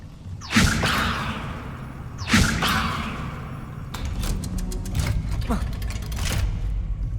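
A levitation spell is cast in Hogwarts Legacy, heard as two sharp magical whooshes with thuds around the first and third seconds, followed by a busier stretch of crackling, shimmering game effects.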